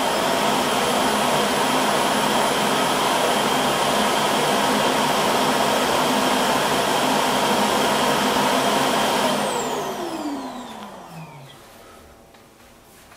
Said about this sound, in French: la phase d'aspiration, enfin du moins du vidage du réservoir du robot aspirateur est finie